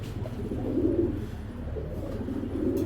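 Big pigeons coo softly and steadily, a low murmuring warble over a constant background hum with no talk.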